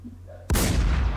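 A single loud, booming sniper rifle shot in the video game Infestation cracks suddenly after a quiet moment, then rings out with a long, rumbling decay.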